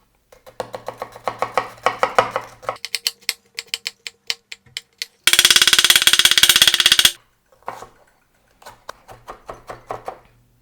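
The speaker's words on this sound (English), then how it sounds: "And then we cut some onion." A knife chops onion on a cutting board in rapid bursts of crisp, close taps, with a dense fast run of strokes midway and scattered chops before and after, no talk.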